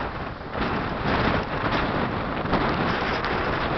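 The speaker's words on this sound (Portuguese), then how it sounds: "O vento querendo me levar." Strong wind driving rain in the hills of Uruburetama, Ceará, near a reservoir, roaring and buffeting the microphone in continuous gusts that swell after a brief lull.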